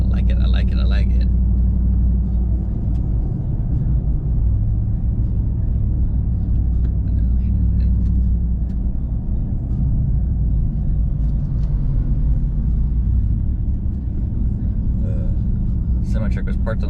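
A Ram TRX pickup cruises on a highway, its low engine and road rumble steady and loud from inside the cab throughout.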